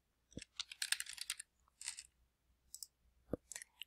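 Quiet keystrokes on a computer keyboard come in short, irregular bursts of clicks separated by pauses, close and isolated with no other sound.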